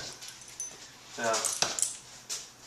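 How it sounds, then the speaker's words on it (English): A dog gives a short excited whine amid light clinking and jingling sounds nearby, in a dog training center. "there's another dog out in the training center, which is in a crate, and she heard little Twix"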